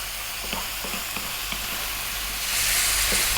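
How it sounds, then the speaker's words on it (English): Ingredients for fried rice stir-fried over high heat, a steady loud sizzle with scraping stir strokes every half second or so, the frying surging louder toward the end. "Let's go for another 3 minutes on this high heat, stirring all the time."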